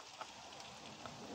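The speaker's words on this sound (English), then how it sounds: "I wonder how heavy this rain's going to get." Light rain falls outdoors as a faint, even hiss with soft scattered drops, steady and unbroken throughout.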